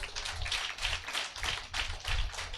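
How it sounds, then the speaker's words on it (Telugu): Rhythmic, loud clapping from a congregation at a Sunday church service in Tirupati, beating in steady repeated bursts for the whole stretch. "గట్టి చప్పట్లు కొట్టండి."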